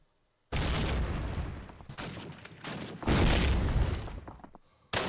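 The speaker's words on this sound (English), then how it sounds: "Plenty of nades going out." Grenade blasts and gunfire in Call of Duty: United Offensive during a competitive online match, with loud booming bursts arriving in heavy waves after a silent start and a final sharp blast at the end.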